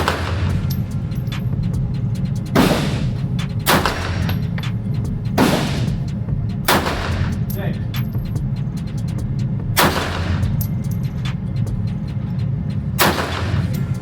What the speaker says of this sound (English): Here you go shooting the clip again.